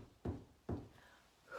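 Two distinct knocks on a door, close and moderately loud, spaced about half a second apart, followed by quiet.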